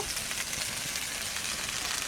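Young jackfruit and potato pieces fry in hot oil in a pan for a village-style shrimp dish, giving a dense, steady, close sizzle with no talking.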